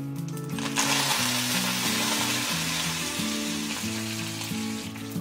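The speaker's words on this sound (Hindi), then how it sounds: "स्लो फ्लेम पर हम डालेंगे इसके अंदर 1 टीस्पून राई, 10 से 12 करी पत्ते" One teaspoon of mustard seeds and ten to twelve curry leaves sizzling in hot oil over a slow flame, a steady close crackling hiss with a faint tonal background underneath.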